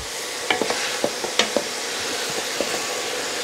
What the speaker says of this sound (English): And then I'm just gonna saute it